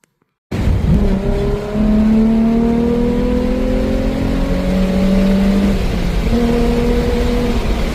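A Nissan 350Z with its V6 engine accelerating hard, loud and close: a strong rising engine note climbs through successive gears in smooth sweeps, with brief dips at each shift, then holds a sustained high roar.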